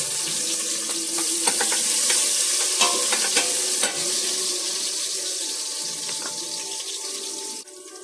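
Garlic and ginger sauté in a hot pan with a steady bright sizzle, broken by repeated scraping stirs of a utensil against the metal and brief watery splashes, close and loud with no talking.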